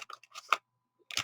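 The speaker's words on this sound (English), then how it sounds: "I use scissors rather than a knife." Scissors snip quickly and crisply up close through an anti-static bag, a few short cuts, then a pause and another brief burst of cutting.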